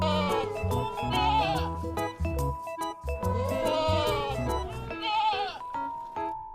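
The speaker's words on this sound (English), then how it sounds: "Goat." A goat bleats repeatedly in wavering, nasal calls, close and loud, several cries running together over a few seconds.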